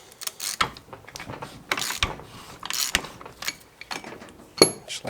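Tools clank and ratchet while the large bearing cap on a Toyota Land Cruiser front axle is loosened during a rebuild, giving a series of sharp metallic clicks and knocks at close range, with no talking.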